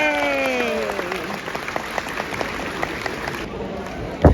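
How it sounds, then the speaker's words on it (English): Crowd applause and cheering at a cat expo catwalk for a Sphinx cat, steady clapping over a bright murmur of voices after a brief sung or called note at the start. "Big round of applause for the Sphinx"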